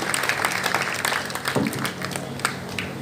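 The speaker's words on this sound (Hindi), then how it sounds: "जोरदार तालियां बजाएं" Sustained applause from the audience at a Hindi poetry gathering, a crowd clapping steadily and fairly loudly for a few seconds.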